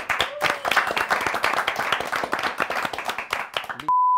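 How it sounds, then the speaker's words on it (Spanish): A small studio group claps briskly for several seconds, loud close sharp hand claps in a lively irregular burst that cuts off abruptly and is followed by a steady tone. "aplauso para los no tóxicos"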